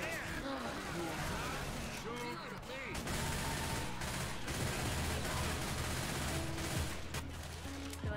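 Gunfire fills a video game fight in an infected mall: dense, continuous volleys of shots run throughout under busy background noise, with faint voices mixed in.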